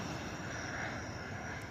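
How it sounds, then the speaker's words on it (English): A fixed-wing airplane passes overhead near a railroad crossing, giving a steady, broad roar at moderate distance with no talk. "It's an airplane going off."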